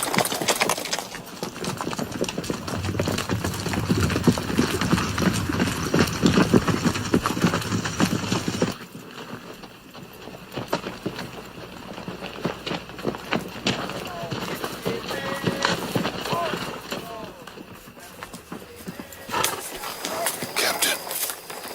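Horses ridden by vaqueros gallop in a steady, dense clatter of hooves with rumbling movement, loud at first and then softer, mixed with voices and film sound.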